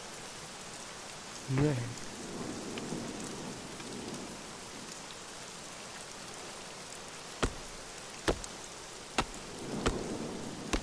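Steady rain falls in the survival game Scum, with sharp thunder cracks striking several times near the end and a brief voice speaking early on.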